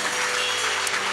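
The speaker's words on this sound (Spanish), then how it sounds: "Fuerte el aplauso al Señor." Steady clapping from a church congregation, dense and continuous through a brief stretch, with no voices over it.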